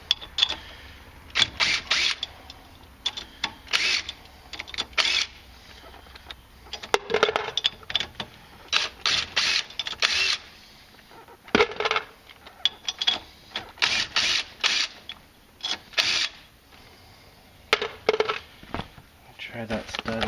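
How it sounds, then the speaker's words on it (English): A ratchet clicks in repeated bursts while nuts are removed from the wheel studs of a 2004 Polaris Sportsman 500 fitted with wheel spacers, close and sharp, with pauses between runs. "Now take those nuts back off."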